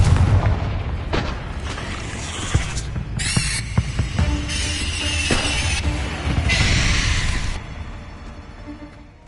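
Confringo spell explosions in Hogwarts Legacy, a series of booming blasts and sharp impacts layered with fiery crackling bursts and mechanical clatter, loud and close.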